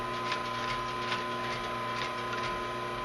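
A sewing machine back stitching a leather tote bag runs in a steady, fast mechanical rattle with faint ticking needle strokes, moderately quiet and continuous throughout with no voices.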